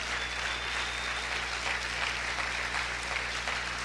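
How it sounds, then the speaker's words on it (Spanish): A church congregation at a Spanish-language service applauds, giving a steady, fairly quiet wash of clapping over a constant low hum, with no talk over it. "Dale ese fuerte aplauso al Señor."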